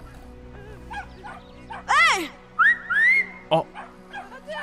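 A dog barks and yips in the video game Brothers: A Tale of Two Sons, a few short sharp calls mixed with whistle-like tones, while a person speaks briefly over the game sound.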